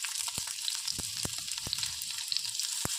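Finely chopped garlic sizzles in a little hot oil in a pan with a steady bright crackle, punctuated by a few sharp spoon taps against the pan, close and without voices.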